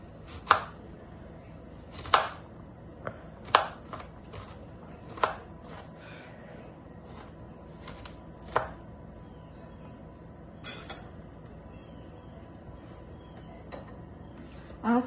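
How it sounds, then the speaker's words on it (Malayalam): A knife chops half an onion finely on a board, a cook preparing an eggplant dish; sharp irregular knocks spaced through the clip, close and fairly quiet, with no talk. "അതിന് ഞാനിവിടെ അര സബോള ചെറുതായിട്ട് കട്ട് ചെയ്യുന്നു."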